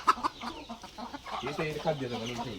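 Free-range desi gavran chickens on a poultry farm cluck and chatter nearby in quick, irregular bursts, with a faint voice in the background.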